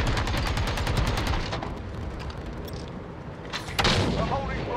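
Call of Duty Modern Warfare gunfire: rapid automatic bursts crackling close, easing into scattered shots before a heavy booming blast near the end, with a voice faintly under the fire.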